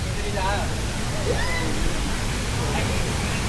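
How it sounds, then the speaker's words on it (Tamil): Heavy water crashes down at Five Falls waterfall near Tenkasi, a steady, loud broadband roar that fills the whole stretch without pause, with faint voices mixed into the rush. "ஃபைவ் ஃபால்ஸ்லையும் தண்ணி சும்மா வேற லெவலில் விழுந்துகிட்டு இருந்தது"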